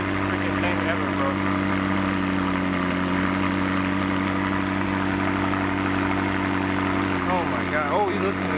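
A turbocharged McLaren engine runs with a steady, throaty drone and low vibration, close and continuous, while people talk excitedly over it throughout.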